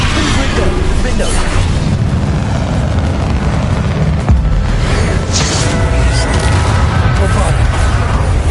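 Confringo fire-blast spells in Hogwarts Legacy, a dense continuous roar of rumbling explosions and magical impacts, loud and overlapping, with a voice shouting over the battle.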